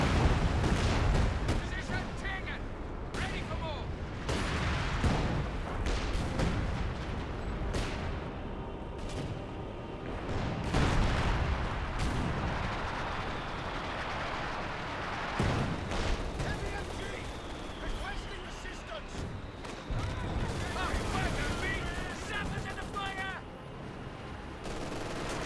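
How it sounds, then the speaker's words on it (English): White phosphorus mortar barrage in Company of Heroes 2, a steady rumble of distant thuds and crackling impacts mixed with other battlefield gunfire, running continuously for the whole stretch. "And White Phosphorus being summoned in as well"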